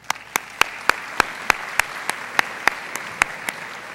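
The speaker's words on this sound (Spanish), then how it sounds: "Un aplauso para Juan José." Audience applause at a Peruvian university conference, a steady bed of clapping with single sharp claps standing out at an even, rhythmic pace throughout.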